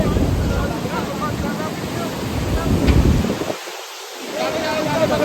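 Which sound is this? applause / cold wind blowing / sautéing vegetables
cold wind blowing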